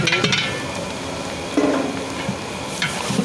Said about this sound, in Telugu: అయితే ఆయిల్లో మంచిగా వేగనివ్వాలి